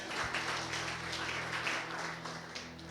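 A church congregation applauds during a sermon, a dense and steady wash of clapping that holds evenly for a few seconds under a faint low hum.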